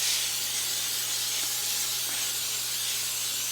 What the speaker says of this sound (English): And we'll get some spray on our other pan.